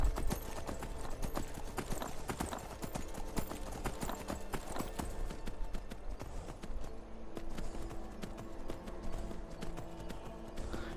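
Hoofbeats from a ridden horse in Skyrim pound steadily and loudly over game music, a continuous running rhythm.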